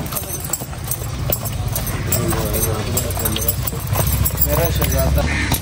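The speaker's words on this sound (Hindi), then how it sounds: "अभी उस्ताद साहब हो रहे हैं जी सवार घोड़े पे" Horse hooves clip-clop steadily over a noisy outdoor background in Abbottabad, with people talking and crowd clamor throughout.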